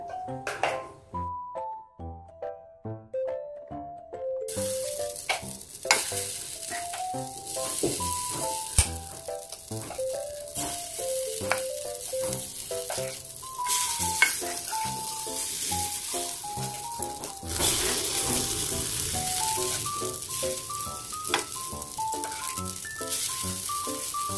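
Potato appe batter sizzles and crackles steadily in an oiled appe pan, a continuous frying hiss under faint clinks and light background music.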